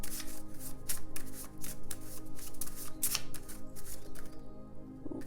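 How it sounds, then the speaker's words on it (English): A deck of handmade oracle cards is shuffled by hand at close range, producing a quick run of crisp riffling and flapping bursts that goes on steadily with no talk. "So I'm going to shuffle them"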